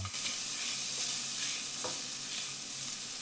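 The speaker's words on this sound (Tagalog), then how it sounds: "Next, maggisa tayo ng sibuyas. Sunod naman yung bawang." Onion and garlic sautéing in a pan for a potato stick dish, a steady close sizzle with faint stirring scrapes running throughout, no voices.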